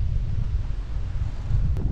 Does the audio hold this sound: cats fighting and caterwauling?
no